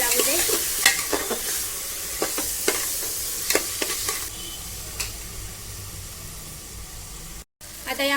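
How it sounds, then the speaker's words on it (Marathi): Washed rice roasts in hot oil for mint rice, with a constant close sizzle and hiss punctuated by repeated scraping stirs in the pan, followed by a short gap. "आता याला छान भाजून घेणार आहे तेलामध्ये।"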